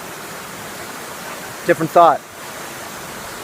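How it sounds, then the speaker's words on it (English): A waterfall gives a steady, even rush of falling water that fills the whole stretch, and a voice speaks briefly over it. "we're going to go on the waterfall right now"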